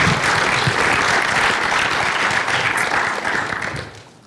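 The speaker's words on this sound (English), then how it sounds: "So please give Mr. DeMott a warm round of applause." Audience applause for a speaker at a security conference, loud dense clapping from a full room that holds steady and then tapers off toward the end.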